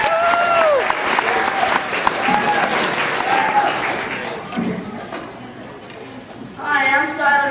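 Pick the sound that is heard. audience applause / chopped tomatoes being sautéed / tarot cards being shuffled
audience applause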